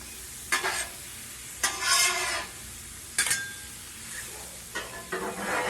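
Onions, mushrooms and butter sizzle on a Blackstone griddle while a big spatula scrapes and tosses them in several distinct bursts, each a close, bright scraping hiss rising over a steady low frying crackle.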